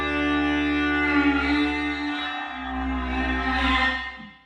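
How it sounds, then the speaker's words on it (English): A sustained synthesizer chord on an Osmose expressive synth, washed in a long reverb with the decay set to maximum, rings full and steady before the tail fades out at the end. "So that's the reverb"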